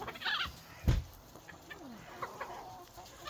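Chickens on a snowy farm in November cluck and murmur nearby, giving several short throaty calls with a louder squawk partway through, over faint background noise and no speech.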